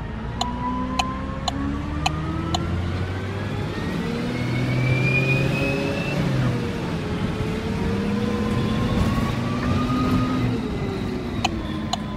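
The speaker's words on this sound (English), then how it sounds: "Please hold on, the bus is about to move." A London Arriva bus on route W11 to Chingford pulls away, its mid-pitched engine rising steadily in a long continuous drone with gear-like pitch sweeps, close and fairly loud, no talk over it.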